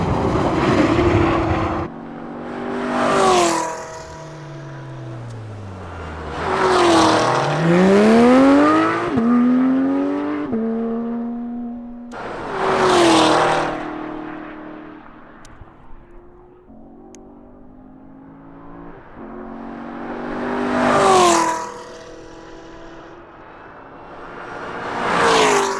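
A Camaro runs on a race track in hot weather, several loud passes rising and falling in pitch as the engine revs up, shifts and fades, with Doppler sweeps as each car goes by.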